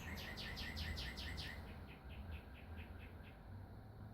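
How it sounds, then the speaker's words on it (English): Small birds chirp outdoors in quick repeated trills, a fast run of bright calls at first that then thins into sparser, softer chirps over steady background noise. "You hear those birds?"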